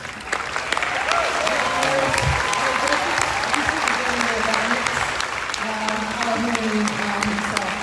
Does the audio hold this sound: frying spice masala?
no